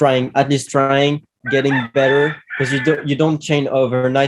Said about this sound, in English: I hear a rooster outside.